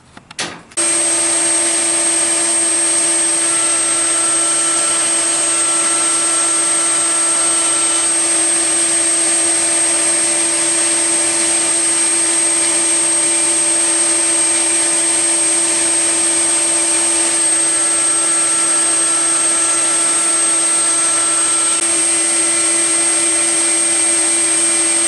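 A power cutter machining timber for wooden boxes with dovetail joints, starting abruptly and then running as a loud, steady, unbroken whine with a constant tonal hum throughout.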